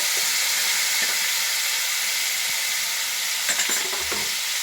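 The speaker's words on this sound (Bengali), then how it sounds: "এবার আমি এর মধ্যে দিয়ে দিচ্ছি বেটে রাখা পেঁয়াজ।" Ground onion paste frying in a pan for egg curry, an even, dense hiss of sizzling oil throughout, with a few clattering stirs of a spoon near the end.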